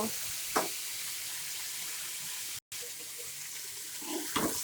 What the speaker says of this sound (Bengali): দেখেন আমার আলু পটল আর পেঁয়াজগুলো ভাজা ভাজা হয়ে আসছে।